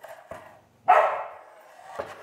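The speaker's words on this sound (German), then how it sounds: "da bellt glatt der Hund" A dog barks in a home workshop: two short, sharp barks, then a louder, drawn-out bark, with quiet gaps between them and no talking.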